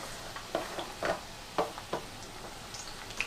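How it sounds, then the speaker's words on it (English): Onions sautéing in a pan over medium-low heat for home-style curry chicken: a few soft spatula stirs and scrapes, about one a second, over a faint, quiet sizzle, with no talking. "we're just going to pretty much saute them"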